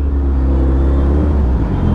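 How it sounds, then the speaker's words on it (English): Dense road traffic in Hebbal, Bangalore, a continuous low rumble of engines close by with no pause, heard from among the vehicles while riding a Hayabusa motorcycle. "There's a lot of traffic here in Hebbal."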